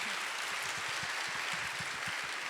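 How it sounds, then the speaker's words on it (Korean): Scattered, fairly faint applause from a small church youth-group audience, a thin patter of individual claps rather than a full ovation, heard alone without talk. "우리 박수 한번."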